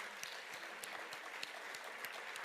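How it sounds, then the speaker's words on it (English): Audience clapping at a Lancaster City, Pennsylvania community engagement presentation, a brief, fairly quiet wash of applause with occasional distinct claps. "Round of applause, Lancaster City."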